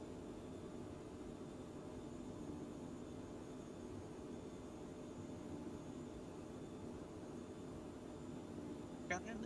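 Airplane engine in Microsoft Flight Simulator 2020 during the takeoff roll, a steady low roar and hiss held at constant level, fairly faint, with a small click near the end.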